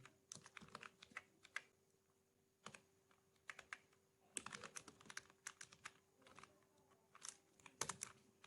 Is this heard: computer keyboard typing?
yes